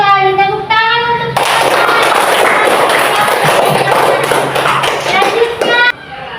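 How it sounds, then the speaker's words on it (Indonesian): A classroom bursts into applause for a pupil's correct answer, several seconds of dense, close clapping between stretches of a teacher's talk. "Tepuk tangan untuk"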